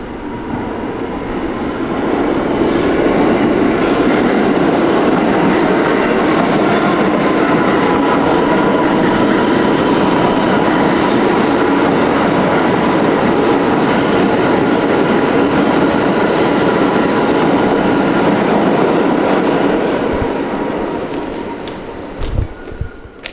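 A New York City train roars past at close range, a loud sustained rumble with rattling wheels that builds quickly, holds for several seconds, then fades away.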